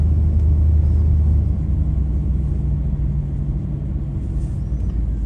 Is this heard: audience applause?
no